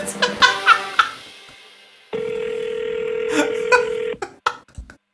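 A phone line tone rings out steadily for about two seconds after some brief laughter and chatter, ending with a few clicks.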